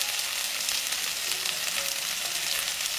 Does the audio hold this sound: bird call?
no